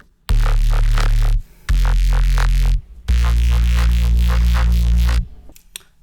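A layered drum and bass synth bass plays three loud, thick sustained notes with gritty, buzzing highs and a pulsing wobble, separated by brief gaps and ending in a short tail.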